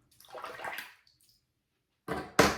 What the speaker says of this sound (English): I'm gonna rinse my face.